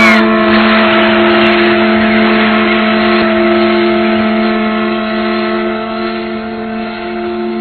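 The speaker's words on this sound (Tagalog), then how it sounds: "Mapapatakbo pa natin ang makinang yan." A loud engine runs steadily with a deep, even drone and strong harmonic hum, easing slightly toward the end.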